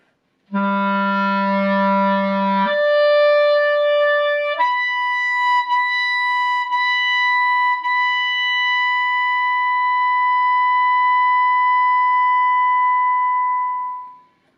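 Clarinet playing sustained top notes, opening with a low tone, then stepping up to a high held note with light tongued articulations before fading away in a long decrescendo; solo and close, no talk.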